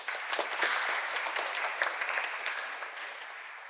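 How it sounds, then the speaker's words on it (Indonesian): Applause from a congregation at an Easter Sunday evening Mass in an Indonesian church, steady dense clapping that fills the room and tapers slightly toward the end, with no voices over it. "kita tepuk tangan juga lah"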